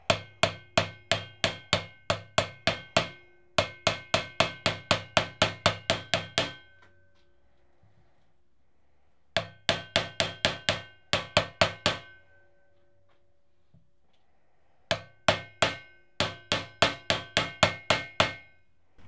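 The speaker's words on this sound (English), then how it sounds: "try and keep it level, and then whack it with a hammer" Rapid bursts of hammer blows, sharp metallic strikes landing in quick rhythmic runs, separated by short pauses of quiet.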